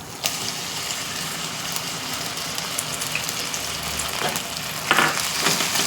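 Ginger paste hits hot oil in a wide pan and fries with a steady, close sizzle, with a few scrapes and clatters of stirring.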